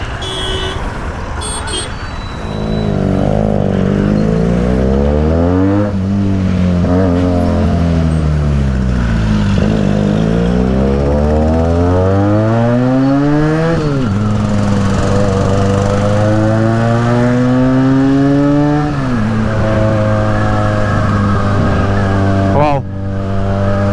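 A Benelli TNT 300 motorcycle is ridden on a road, its engine note rising and falling through repeated gear changes, loud and close with steady wind rush.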